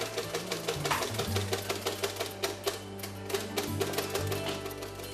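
An electronic Braille printer built from a converted mechanical Braille typewriter runs steadily, with rapid, evenly spaced embossing clacks over a constant motor hum, loud and close with no voices.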